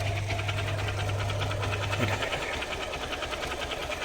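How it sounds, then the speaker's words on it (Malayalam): A Hero X-Pulse motorcycle engine in worn-out, failing condition runs with an abnormal rattling, ticking knock over a steady mechanical hum, close and continuous throughout, with the low drone dropping away midway. "നമ്മുടെ വണ്ടിയിൽ നിന്ന് ഒരു സൗണ്ട് വരുന്നുണ്ട് ഈ സൗണ്ട് എഞ്ചിനിൽ നിന്നാണോ"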